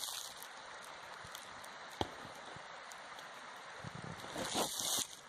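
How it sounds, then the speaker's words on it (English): Water flows steadily through a stream in the woods, a continuous faint rushing with a single sharp knock partway through and a brief rustling swell near the end. "Hear the water."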